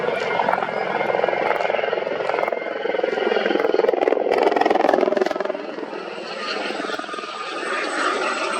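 Aerospatiale Westland helicopter flying at an air festival, a steady loud rotor and engine roar that swells and holds throughout, with no speech over it.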